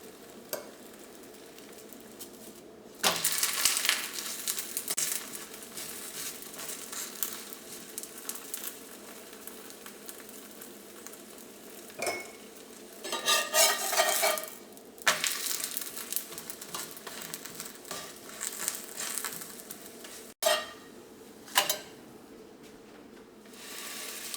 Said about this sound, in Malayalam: ഞാൻ ഇരുമ്പിൻ്റെ പാനിലിട്ടിട്ടാണ് പൊറോട്ട ചുടുന്നത്